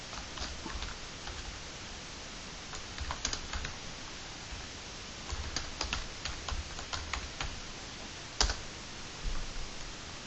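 Fingers tap on a computer keyboard nearby in scattered bursts of quiet clicks, with brief pauses and one sharper keystroke near the end.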